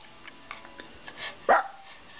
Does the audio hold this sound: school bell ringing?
no